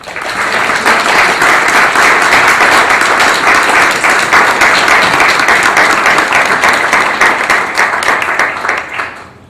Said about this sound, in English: So I think Aidan deserved a really warm round of applause.